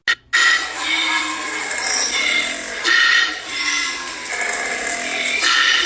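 A koala bellows in harsh, rasping snorts and grunts, loud and close, in continuous rough pulses after a brief pause at the start.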